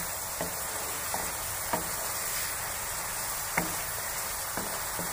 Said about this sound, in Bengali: এইভাবে ভালো করে নেড়ে চেড়ে ভাজতে হবে।